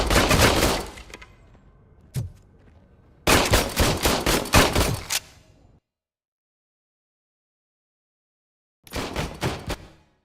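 Bursts of gunfire from the video game RoboCop Rogue City: a loud rapid volley, one sharp single shot, a longer sustained burst, then silence before a final short burst.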